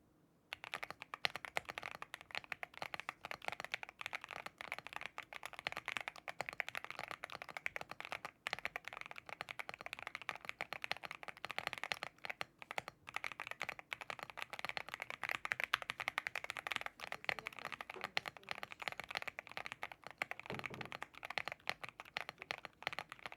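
Steady, fast typing on an Epomaker TH80 Pro V2 mechanical keyboard with stock linear switches, a continuous stream of quiet clacky keystrokes heard up close for the whole stretch.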